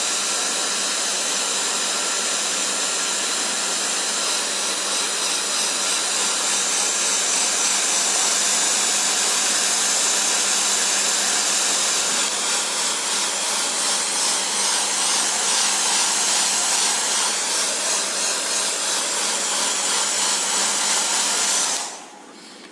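A hair dryer blows steadily and loudly for over twenty seconds, drying watercolor paint on a pen and watercolor portrait, its whooshing hum wavering slightly before cutting off abruptly.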